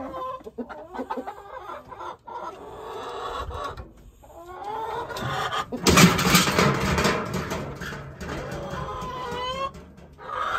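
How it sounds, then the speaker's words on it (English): Hens and a rooster cluck and squawk in a busy hen house, a noisy overlapping chorus of fowl that swells loudest around the middle of the clip. "A lot of racket in the hen house."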